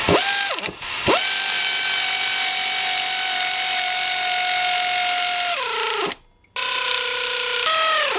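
A ratchet runs water pump bolts in on a 1999-2013 Chevy truck, a fast steady mechanical clicking buzz held for several seconds, with a short pause near the end before it resumes, close and loud.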